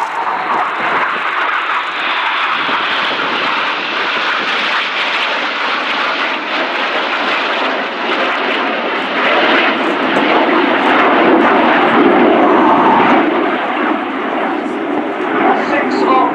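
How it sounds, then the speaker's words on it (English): Panavia Tornado jet bomber roaring past at an air show, a loud continuous jet engine rumble and roar that swells and holds throughout, with faint crowd and commentary beneath. "So now in from the right, celebrating the Tornado Bomber Force, this is Tornado!"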